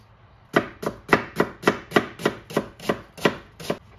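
A knife chops an onion on a cutting board in about eleven steady, crisp strokes, close up and evenly paced, with no talking.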